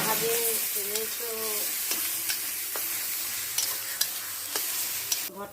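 Eggplant bharta with egg being stirred in a frying pan: soft steady sizzle under repeated scraping strokes of a spatula against the pan, close and continuous, with faint voice-like tones in the background.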